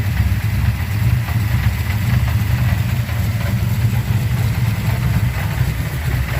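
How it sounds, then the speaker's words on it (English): A car engine with long-tube headers idles steadily and loudly close by, a constant low rumble with a faint metallic rattle from the transmission running through it. "I just think it's a little bit of a noise from the transmission."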